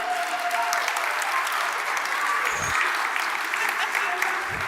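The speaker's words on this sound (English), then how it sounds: "Should we give them a clap?" Children and families at a church holiday club celebration at St Nicholas Church clap together, a loud, sustained wall of applause with some crowd noise and a few voices mixed in.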